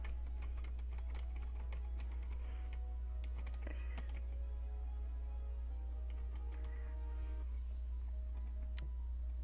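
Quick, furious typing on a computer keyboard clatters in irregular bursts of key taps over a steady low hum, fairly quiet and with no talking.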